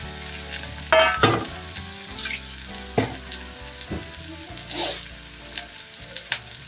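Kohlrabi curry sizzles in a pan while a spoon stirs it, with several scraping strokes and clanks over a low, steady frying hiss and no talking.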